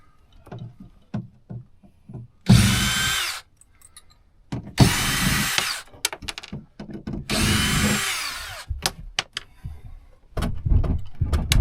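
A handheld electric screw drill whirs in three bursts of a few seconds each while driving screws into a bus interior, separated by clicks, clunks and small handling knocks.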